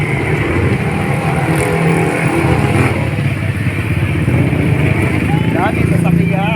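Dense, loud road traffic with many vehicles, motorcycles among them, rumbling past steadily, with voices talking over the engine noise.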